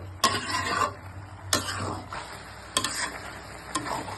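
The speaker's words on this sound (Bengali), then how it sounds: "এটাকে নেড়ে দিচ্ছি নেড়ে দিয়ে আমি পরে এটাকে ঢেকে দেবো" Beef and cabbage curry gets stirred in a pan. Several sharp scrapes of a spoon against the metal come at irregular intervals over a low sizzle.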